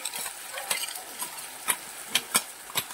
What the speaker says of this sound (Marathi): मस्त असं आपल्याला हलवून घ्यायचं आहे।